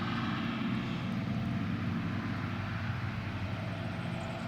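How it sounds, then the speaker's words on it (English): A tractor driving down a road, a steady, droning engine rumble heavy in the low end, constant in level throughout with no pauses, heard at moderate distance with no voices. "I have another tractor coming down the road"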